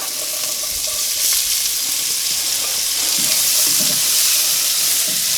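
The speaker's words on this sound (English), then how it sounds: "going to go ahead, cook the onions" Onions fry in rendered chorizo fat inside a Kamado Joe grill, a loud, steady close-up sizzle with some faint scraping stirs.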